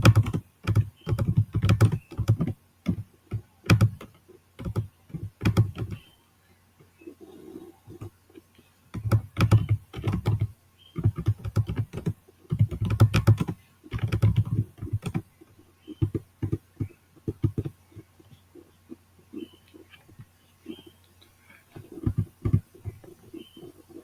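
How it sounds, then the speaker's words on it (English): Rapid bursts of keystrokes on a computer keyboard while entering network switch commands in a Cisco EtherChannel configuration lab, close and crisp with short pauses between flurries of typing. "just press your enter key and then retype the command"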